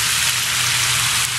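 Chicken and pork pieces lightly frying in a pan for adobo, a steady, close hiss of sizzling oil with no voices.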